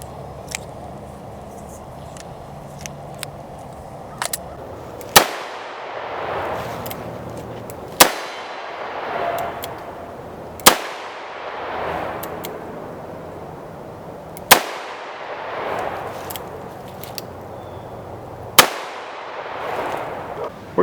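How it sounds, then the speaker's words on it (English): A Taurus Judge revolver fires 3-inch .410 shotgun shells, five loud, sharp reports spaced a few seconds apart, each followed by a short echoing ring in an otherwise quiet outdoor setting. "But one thing you can do with the Judge is fire 3-inch 410 shells."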